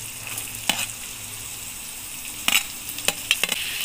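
Tomatoes sizzle in a pan for biryani sauce while a spoon stirs them, with soft steady frying beneath a few sharp scraping strokes and clatters scattered across the few seconds.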